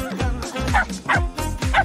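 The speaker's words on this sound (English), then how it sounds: "Uh-oh, quick, grab that pup." A puppy gives a rapid series of five or six sharp, high yips and barks, each followed by a short whimpering tail, loud and close, with no voices.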